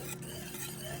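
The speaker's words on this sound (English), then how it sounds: "keep stirring and whisking all this in here and get it to a boil" Strawberries and sugar being stirred and whisked in a pot for jam, a brief, soft stretch of scraping and bubbling sizzle with no voices.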